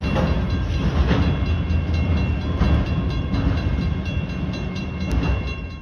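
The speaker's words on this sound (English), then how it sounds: "Should we might as well wait for the train to go by, right?" A train rumbles past continuously at close range, loud and steady for several seconds, with a rolling clatter of wheels and no voices over it.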